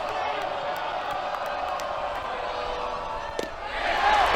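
A college baseball stadium crowd at a Texas vs Mississippi State game, a broad, steady murmur of cheering that swells louder near the end, with a commentator talking over it.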